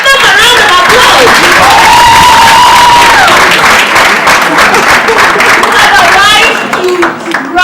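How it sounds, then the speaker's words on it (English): A crowd at an award ceremony breaks into loud, sustained applause and cheering, dense clapping with whoops and shouts rising over it, and voices calling out throughout. "Give them a round of applause."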